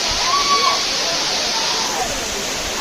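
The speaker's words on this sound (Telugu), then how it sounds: "చూడండి అసలుకి మౌంటైన్ పై నుంచి వాటర్ ఎంత హైట్ నుంచి వస్తున్నాయో." Katiki Waterfall in Araku, water dropping from a mountain top, gives a steady, loud broadband roar that fills the scene without pause, with faint voices or bird-like tones briefly rising above the constant rush.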